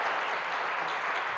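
Audience at a leadership seminar in Singaparna, Tasikmalaya, bursting into dense, even applause that holds steady for a brief moment.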